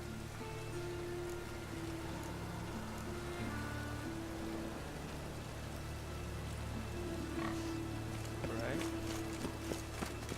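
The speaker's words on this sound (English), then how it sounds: "It's raining." Rain patters steadily across a scene in The Witcher 3: Wild Hunt, a soft continuous hiss under droning game music, with hoof-like clopping and a few sharp clicks near the end.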